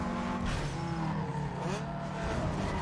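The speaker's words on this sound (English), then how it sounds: "That's a throaty sound there from the Nissan." Throaty Nissan car engine in the racing game Need for Speed Underground 2, roaring steadily with rising and falling revs and a faint tire squeal, loud and continuous throughout.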